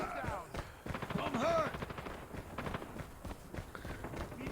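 Quick rattling gunshots from a firearm in the shooter game Call of Duty Mobile, fairly faint and mixed with footsteps and thuds, heard under a man's continuous chatter.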